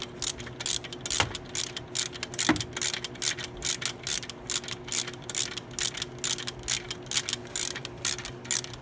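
Ratchet loosening the 15 mm top bolts during alternator removal on a Jeep Wrangler JK, clicking in fast repeated bursts with brief pauses, close to the mic and without speech.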